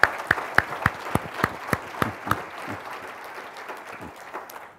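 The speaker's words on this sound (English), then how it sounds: "Let's give them a big round of applause." Audience applause at the 2012 Newark State of the City address, opening with a few distinct sharp claps over a dense wash of clapping that gradually thins and fades, with no talk over it.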